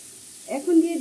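Shrimp frying in a hot pan with a soft sizzle that starts partway through and then holds steady, fairly close, with no talk over it.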